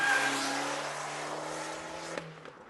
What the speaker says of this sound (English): The sound, with its inbuilt ability to snap, crackle and pop its way through any trip, is thanks to a thing called the Record Monza Variable Back Pressure Dual Mode Exhaust